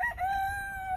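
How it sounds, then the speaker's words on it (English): A rooster at a UK farm crows once, a loud, close, drawn-out cock-a-doodle-doo with a rising then sustained tone over low background rumble. "What do you think of the chickens, Harrison?"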